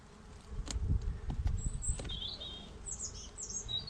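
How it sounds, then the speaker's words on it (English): A quiet bee buzzing near an open beehive during a beekeeping inspection, faint intermittent wingbeat whine among soft handling thumps and a little bird chirping. "Bit of a quiet bee there."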